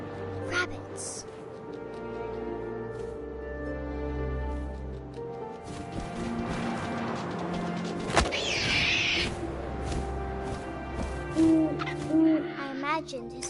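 An owl hoots in the video game What Remains of Edith Finch, with wind and a soft game ambience around it and a voice narrating over the scene.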